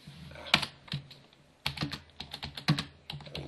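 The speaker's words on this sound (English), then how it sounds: "having difficulty here typing" Keys clatter on a computer keyboard in uneven bursts of close, crisp taps with short pauses between flurries, no voices over them.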